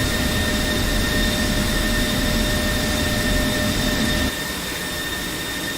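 F-16 Viper jet engine in DCS World running at a steady, loud, broadband roar with faint tonal whines above it, dropping slightly in level near the end; no one talks.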